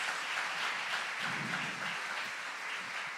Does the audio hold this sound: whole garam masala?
no